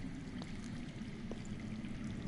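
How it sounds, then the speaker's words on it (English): Faint water trickles steadily from underground in the Game of Thrones Telltale video game, a soft, continuous low flow with no voices. "I hear water. From underground."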